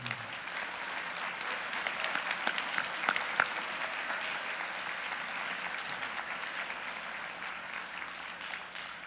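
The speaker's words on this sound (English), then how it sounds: "can we give them an applause, please?" At a winter graduation ceremony, the audience applauds the program staff with sustained, even clapping from a large crowd. Several sharper individual claps stand out near the middle before the applause gradually tapers off.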